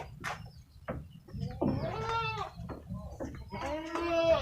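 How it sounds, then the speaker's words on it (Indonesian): Male kacang goats bleating in a rural village pen, several wavering calls close by and loud, with other livestock and low background noise. "Ini teman-teman, ini kambing kacang."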